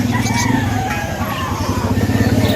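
Chickens cluck and a rooster crows amid a busy, noisy outdoor pet market backdrop, several birds calling at once nearby.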